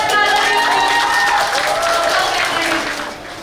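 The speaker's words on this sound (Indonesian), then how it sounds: "Tepuk tangan." Loud crowd applause and cheering erupt for the final customers at the closing McDonald's Sarinah restaurant in Jakarta, with voices and a tonal sound mixed in before the clapping eases off.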